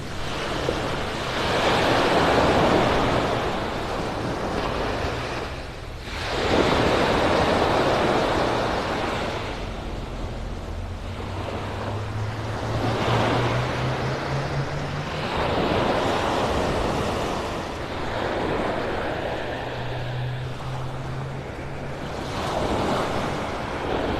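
Ocean surf breaking on Vanderbilt Beach in North Naples, Florida, waves crashing and washing ashore in slow surges every few seconds, loud and near, with wind buffeting the microphone.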